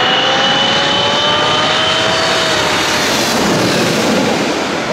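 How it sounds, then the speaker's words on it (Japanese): Airliners pass low overhead near Itami Airport, their engines a loud, continuous roar that fills the whole stretch with no break and no voices. "飛行機がね、 ほら、バンバンバンバン飛んできますもん。"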